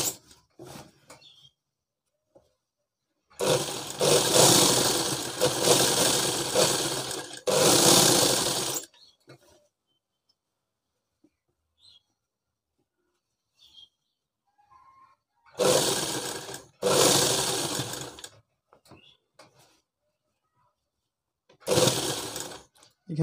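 Sewing machine stitching a shirt sleeve, running in three loud whirring bursts of several seconds each, separated by near silence with faint handling noises.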